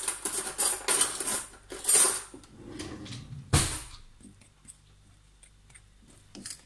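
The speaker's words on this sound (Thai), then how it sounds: "คนให้เข้ากันช้อนส้อมดีที่สุด" A spoon and fork clink and scrape against a bowl while stirring a batter made with oil, in irregular bursts of metallic taps, with pauses and quieter scattered clicks toward the end.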